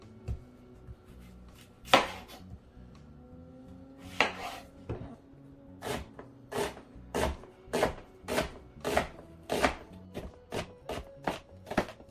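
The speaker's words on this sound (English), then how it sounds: "I'm gonna start out by cutting up my onion." A knife chops an onion on a cutting board, the blows sparse at first and then settling into a fairly steady run of sharp, close knocks.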